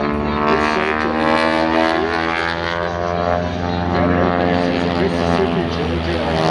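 A 1940 Boeing Stearman biplane built as a military trainer and refitted with a 450 Pratt & Whitney R985 radial engine drones overhead at an airshow, its loud, steady propeller hum holding without a break.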